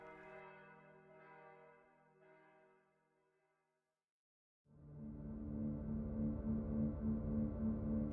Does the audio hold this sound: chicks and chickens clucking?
no